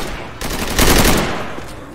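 Gunfire in Left 4 Dead 2 aimed at a zombie: a dense, rapid burst of close, loud automatic shots swelling in the middle and tapering off, with no talk.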